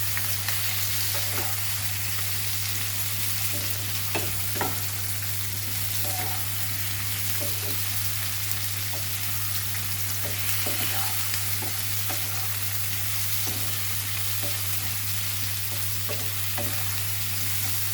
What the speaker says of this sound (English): And as this is getting sauteed